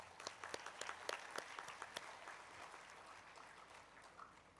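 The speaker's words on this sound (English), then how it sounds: "So have a great clap for him." Applause from a crowd, a burst of sharp claps that thins and fades over a few seconds, heard at a slight distance.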